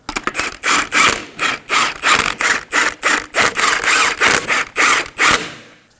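Ratchet wrench snugging lug nuts on a Kia Optima wheel, a series of close, loud, rhythmic clicking bursts of the pawl, roughly fifteen quick strokes in a row with no speech.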